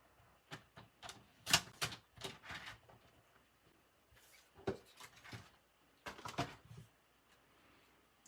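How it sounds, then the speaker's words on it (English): Designer card paper being trimmed shorter for a Christmas card, a quiet close run of short crisp cutting and snipping ticks in uneven clusters with pauses in between. "I want to trim it just a little bit shorter because it's wanting to hang off the edge of my card"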